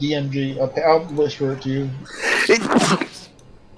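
A single loud, close human sneeze bursting out right after someone speaks, ending the short exchange with a brief breathy release.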